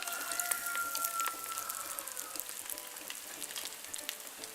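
Crab meat and two small potatoes frying in hot oil in a pan over medium heat, a soft continuous crackle and sizzle with scattered pops, quiet and close, with no talking.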